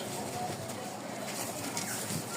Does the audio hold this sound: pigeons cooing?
yes